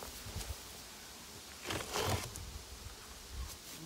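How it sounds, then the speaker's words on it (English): Bees buzzing at a beehive during a harvest check, a faint, low hum with a couple of louder passes up close and soft handling noises in between. "We got bees up top."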